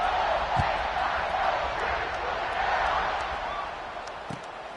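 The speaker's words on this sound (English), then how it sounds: "this crowd is buzzing after that last score" A stadium crowd at a football game keeps up a steady, dense roar throughout, with occasional thumps and shouts rising from the mass of voices.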